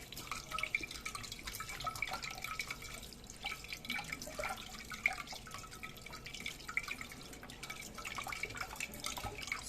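Tap water running into a sink while squash skin is peeled off by hand in a home kitchen, a soft steady trickle with faint dripping and splashing, fairly quiet.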